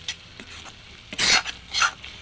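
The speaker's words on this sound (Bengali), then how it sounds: "ভালো করে এইভাবে ডলে ডলে মিলিয়ে দেবো এর সাথে" Bare hands squish and rub a sticky papaya laddu mixture with jaggery, giving a few short, close wet smears and two louder rubbing bursts in the middle and near the end.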